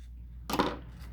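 Scissors cut once through paper while a paper airplane is being folded, a single short, crisp snip in an otherwise quiet room.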